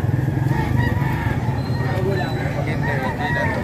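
A rooster crows amid a busy chicken market in Padre Garcia, Batangas, with clucking fowl and crowd babble around it and people talking nearby.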